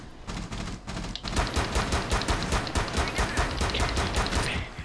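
Rapid automatic gunfire in the tactical shooter Rainbow Six Siege, a dense stream of evenly spaced shots emptying a magazine, loud and close, following a brief opening burst and a short pause.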